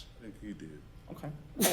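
A single sharp sneeze bursts out near the end, loud and close, right after a short stretch of conversational speech.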